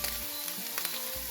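Dried squid strips stir-fry in oil over low heat, giving a soft, steady sizzle with a few light scraping stirs, quiet and close, with no talking.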